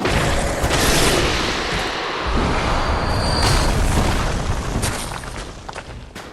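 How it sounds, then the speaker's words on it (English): Loud, dense blasts and rumbling explosions from exploding rocks with a wide area of effect in the video game Bloodborne, sustained bursts filling the whole stretch with no talk. "those rocks have like an insane AoE explosion on it"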